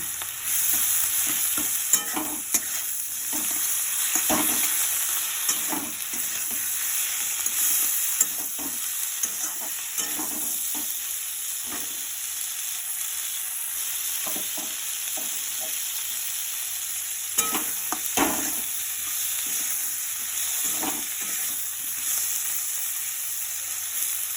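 A chopped tomato fries in oil in a pan and is stirred now and then, a steady close sizzle broken by repeated spatula scrapes and taps across the whole stretch, with no voices.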